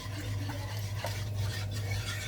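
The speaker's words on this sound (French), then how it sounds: "Et toujours mélanger, toujours jusqu'à que votre béchamel" A whisk stirs béchamel sauce in a pan as milk is added, giving a continuous scraping, swishing stir close by, with no one talking.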